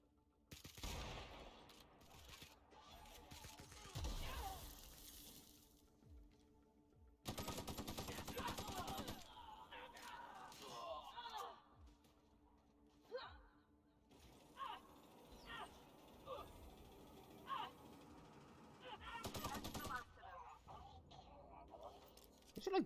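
Gunfire from a modded gun in The Outer Worlds, heard as loud bursts of repeated shots in several clusters, with someone talking over and between the volleys.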